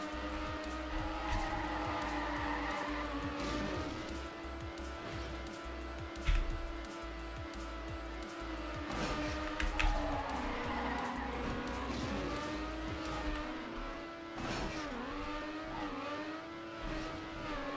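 A race car in Trackmania Nations Forever drives fast with a steady engine drone that rises and falls through gear changes, with tire skids and a few sharp impacts along the way; voices talk over it at times.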